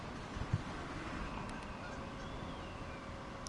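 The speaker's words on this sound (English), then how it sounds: "There's the geese." A few faint goose honks sound briefly early on against steady wind and a low train rumble in Train Sim World 2, on the Hamburg–Lübeck main line; the birds are distant and quickly fade.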